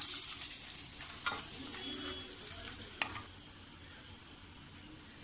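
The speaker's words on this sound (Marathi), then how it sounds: "हे आपण जरा मंद गॅसवरच आपल्याला परतून घ्यायची आहे. मिरची थोडी आपण भाजून घेऊया." Dried red chillies roast in a pan over a low flame, giving a soft close sizzle with a few scraping stirs early on that settles into a faint steady hiss.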